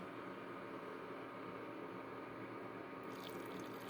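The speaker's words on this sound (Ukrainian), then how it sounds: "І я легесенько, щоб не лопнула баночка, заливаю його в банку." Hot brine for pickled tomatoes with grapes is poured gently into a glass jar, giving a steady, quiet liquid rush that runs the whole time.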